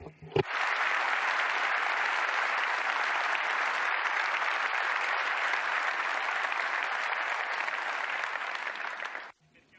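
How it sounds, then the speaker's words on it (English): Sustained, dense applause from a large audience at a Ducati Streetfighter V4 presentation, starting abruptly and holding steady and loud for about nine seconds before cutting off. "A big, big round of applause for all of our technicians and engineers in Bologna"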